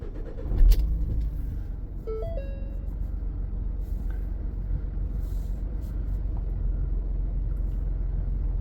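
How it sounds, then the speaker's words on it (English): A 2017 Ford Transit van engine with possible misfires turns over with a short crank, catches, then settles into a steady low idle rumble, with a chime sounding near the start. "And now it tells me to start the engine and press OK."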